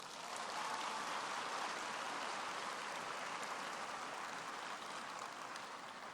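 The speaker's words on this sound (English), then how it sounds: "invite the graduates and the diplomates to applaud the people in the stands" Graduates applauding at a university humanities faculty graduation ceremony in 2017, a steady, dense wash of clapping from a large crowd that holds evenly for the whole stretch with no voices on top.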